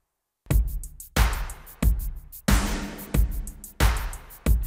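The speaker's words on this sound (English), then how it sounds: "all together with all the kicks and snares and claps, it would end up sounding like this" Full drum mix playing alone in a song-arrangement demo: punchy kicks land about every 0.65 seconds, evenly spaced, with snares and claps layered on top. The pattern is loud and steady, and there is no talking over it.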